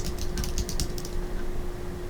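Rapid, uneven key taps on a computer keyboard, close and fairly quiet over a steady background hum, clustered in the first second then thinning out, with no voices.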